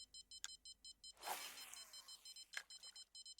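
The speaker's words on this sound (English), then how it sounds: "Something's beeping." An electronic bite alarm beeps during a fishing session, sounding as a steady run of short, regular, faint tones. A louder rushing swell interrupts it midway, and a couple of sharp knocks stand out.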